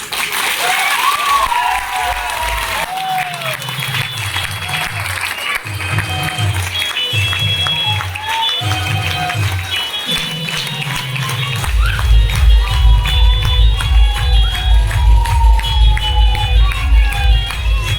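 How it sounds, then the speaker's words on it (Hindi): A seminar audience claps together, first in short rhythmic bursts with voices and cheers mixed in, then swelling into louder, continuous unified applause. "तालियां बाद में बजाइए या बजाइए तो एक साथ बजाइए।"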